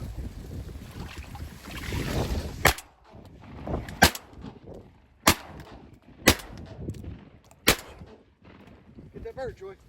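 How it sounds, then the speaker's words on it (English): Shotgun blasts while hunting mallards over flooded corn, five sharp loud reports spaced a second or so apart, with wind and voices talking in between. "Shoot it again."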